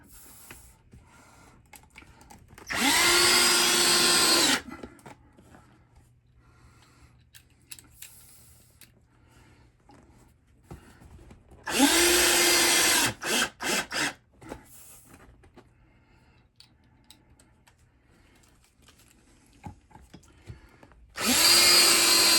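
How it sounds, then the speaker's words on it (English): A power drill driving four wood screws to fasten a cup holder on a bed-lift bench, heard as three loud whirring bursts, each a couple of seconds long, separated by quiet handling noises. "to finish up installing the cup holder, put in these 4 wood screws"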